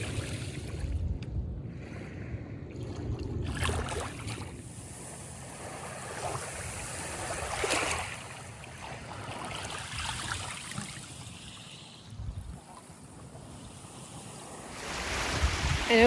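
Waves washing onto the sandy beach of Lake Michigan at Illinois Beach State Park, a steady low rumble of surf mixed with gusting wind noise, fairly close and moderate in level.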